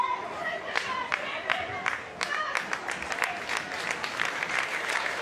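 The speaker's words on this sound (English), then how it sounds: "it's going to be a warm round of applause for Molina Reyes" Crowd at a women's A-League football match, Newcastle Jets against Western Sydney Wanderers, applauding a substituted player, with scattered claps and sustained clapping over a murmuring stadium crowd, with commentary voices talking over it.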